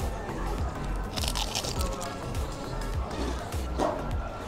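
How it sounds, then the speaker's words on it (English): Crunchy bites into shrimp tempura batter at a restaurant near Mt. Takao in Tokyo, several crisp crackling crunches close to the mic over soft background chatter. "Next, I'll try some of the shrimp tempura or ebi tempura."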